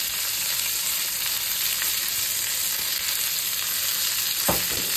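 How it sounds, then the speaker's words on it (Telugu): Onion pieces with a little turmeric frying in a pan for a South Indian tomato chutney, giving a steady close sizzle throughout with a brief stirring scrape near the end and no talking. "ఇప్పుడు ఉల్లిపాయలు మెత్తబడేంత వరకు మనం వేపుకుంటాం."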